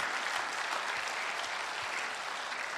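Church congregation at a Tagalog preaching service applauds, a dense, even wash of clapping heard at a moderate distance without pause.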